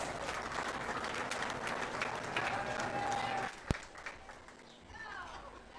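At a county fair sheep and goat show, the audience gives the exhibitors a round of applause. The clapping is moderate and somewhat distant, mixed with crowd murmur, and fades after a sharp knock midway.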